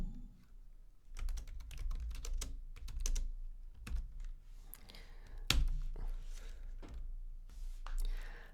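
Bursts of quick clicks come from typing on a computer keyboard, close and soft, in uneven runs with short pauses while writing Lua code.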